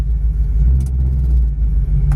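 A 1968 Ford Mustang engine idles steadily with a deep, loud low rumble, close by and alone, with a faint higher rasp briefly rising once or twice.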